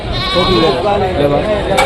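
Goats bleat repeatedly at a busy livestock market in Rajarampalli, several overlapping calls close by, mixed with steady crowd chatter and people talking nearby.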